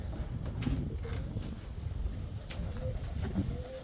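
Pigeons give low, rolling coos close by over a steady background rumble, several soft calls repeating across a few seconds with no talk.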